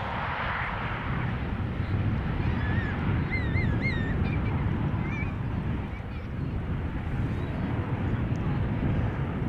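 A fixed-wing airliner lands at Schiphol Airport without thrust reversal, its distant engine roar a steady broad rumble throughout, with faint bird calls and some wind noise over it.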